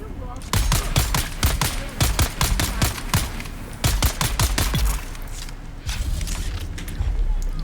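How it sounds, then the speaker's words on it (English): Rapid bursts of gunfire in the Dune Awakening video game, loud sharp shots in quick clusters with brief gaps between volleys, with a voice speaking alongside. "Oh, yep, somebody's definitely shooting at us."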